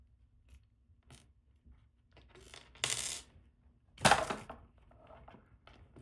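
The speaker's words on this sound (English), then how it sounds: "Then you unscrew the drive axles from the motor" Small metal clicks and clinks come from drive axles being unscrewed from a Goup RC brushless motor, close and quiet, with a couple of louder rattling bursts in between.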